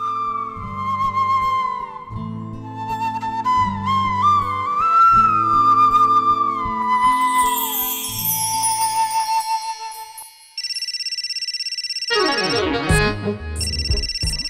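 A phone ringtone comes in loud and close after a stretch of melodic music, with a steady electronic ringing pattern filling the last few seconds.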